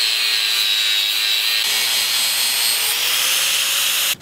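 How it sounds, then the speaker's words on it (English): Steady, loud grinding of a damaged axe head as imperfections are ground out and a bevel is put in, a continuous abrasive hiss that shifts slightly in pitch partway through and cuts off at the end. "grinding out some of the imperfections in the axe, and I'm going to be putting that bevel in"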